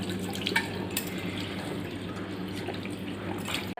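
Water trickles and drips steadily while a baby parrot is being bathed, a close, continuous splashing patter with a few sharper drops.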